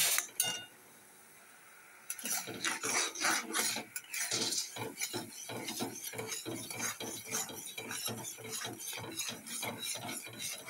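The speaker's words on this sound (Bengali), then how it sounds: "এইভাবে নেড়ে নেড়ে নাড়তে থাকবো" A spatula stirs boiling patali jaggery syrup with ghee and mustard oil in a pan, making rhythmic close scraping and rasping strokes after a brief quiet start.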